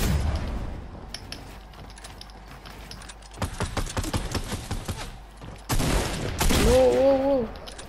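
Rapid bursts of gunfire in Fortnite arena play, dense clusters of shots coming in waves and growing louder toward the end, mixed with other game sound effects.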